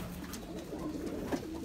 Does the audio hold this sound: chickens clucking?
no